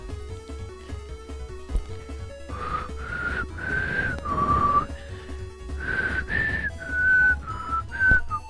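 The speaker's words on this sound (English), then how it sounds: "Listen to the soothing sounds of me whistling deeply into a microphone." A person whistles deeply and close into a microphone, a series of sustained tones with a few brief gaps, fairly loud and alone without talk.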